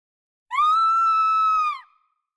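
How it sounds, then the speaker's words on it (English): A piercing scream sound effect in a science fiction audiobook: a single sustained high-pitched shriek of terror lasting just over a second, loud and alone, with a sharp onset and a brief fading tail. "a piercing scream cut through the morning air, a sound of terror that stopped Mira in her tracks"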